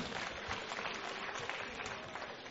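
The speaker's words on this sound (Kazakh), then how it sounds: "Сол үшін осы командаларға доғыл шапалақ ұрып қойсаңыздар." Audience applause for the finalist teams at a competition final, a steady wash of clapping that holds evenly for the whole stretch with no voices over it.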